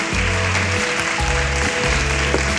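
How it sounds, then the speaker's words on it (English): An audience at a Miss World 2013 charity brunch claps in a sustained burst of applause, with a low, pulsing tonal drone running underneath. "A big round of applause."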